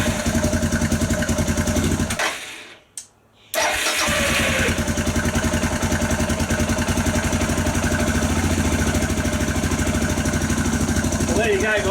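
A Suzuki DR650 motorcycle on a lithium battery cranks over loudly with a rapid rhythmic starter chug, cuts out for about a second, then cranks again and keeps churning steadily up close.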